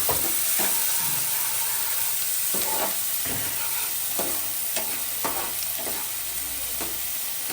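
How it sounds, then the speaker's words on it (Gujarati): Onion frying in hot oil with mustard seeds, a loud steady hiss of sizzling with regular scraping strokes of a stirring spoon, close up and without talk. "ચલો હવે તેલ ગરમ થઈ ગયું. ડુંગળી નાખી ગઈ."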